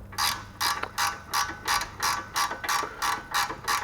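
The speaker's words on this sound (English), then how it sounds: "right now as I'm doing it with my ratchet wrench, it seems to be going on no problem" Ratchet wrench tightening the CV axle nut on a 2012 Hyundai Veloster, a steady run of about eleven close, crisp clicking strokes in even rhythm with a low hum beneath.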